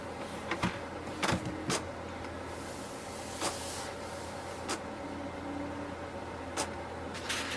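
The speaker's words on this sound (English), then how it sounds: "it's saying like printing the alignment page" An HP Deskjet 3700 inkjet printer runs off an alignment page: a steady mechanical hum with sharp clicks and short whirring bursts of the carriage and paper feed, close by.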